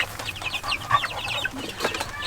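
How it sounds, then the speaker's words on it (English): Chicks hatched on a homestead clucking and peeping in a steady busy chatter of short overlapping calls, moderately close, with no talk. "So we hatched all these chicks out"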